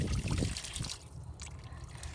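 Water rushes and trickles out through a drip irrigation Y filter as its ball valve is opened to flush it, a steady close splashing flow that starts loud and settles into a continuous wet hiss.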